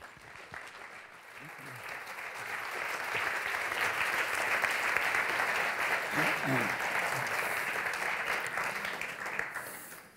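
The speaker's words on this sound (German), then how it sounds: "Bitte begrüßen Sie die beiden Herren mit einem kurzen Applaus" An audience in a lecture hall applauds to welcome two speakers, the clapping swelling from a few hands into a sustained, moderately distant wash before tapering off.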